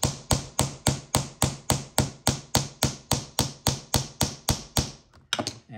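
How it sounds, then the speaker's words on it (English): Hammer peening a rivet on a leather knife sheath's swivel belt loop: about sixteen sharp, evenly spaced taps in steady rhythm, close and loud, with a few quicker softer strikes at the end. "And peen that down, and you have your swivel."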